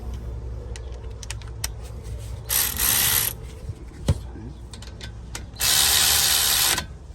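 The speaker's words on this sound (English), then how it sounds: "with my 3/8 ratchet" A 3/8-inch ratchet clicks through two sustained bursts of rapid pawl ratcheting while snugging 14mm brake caliper bolts on a 2013–2017 Honda Accord, with quieter tool handling and clanks between the bursts.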